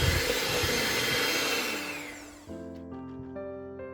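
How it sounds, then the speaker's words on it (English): Electric mixer whirring through banana bread batter after two eggs go in, a steady loud motor drone that winds down and stops, leaving faint ringing clinks. "Mix until you have a smooth texture and minimal to no lumps"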